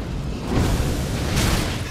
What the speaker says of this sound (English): He's shooting fire!